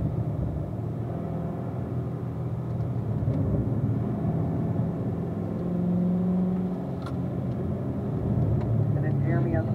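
A Corvette engine running in third gear on a race track, a steady loud droning rumble with slight pitch swells throughout, while a person talks over it.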